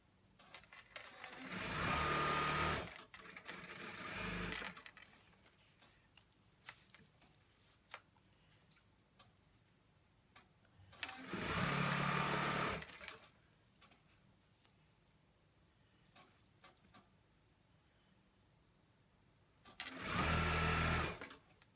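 A sewing machine stitches fleece track pants in three separate bursts of steady motor whirring, each lasting a few seconds, close and clear, with quiet pauses between runs and no speech.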